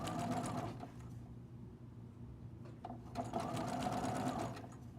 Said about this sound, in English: I just keep moving this fabric back to align with the edge and sew it at 1/4 inch